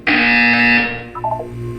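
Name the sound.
buzzer in the video game Portal 2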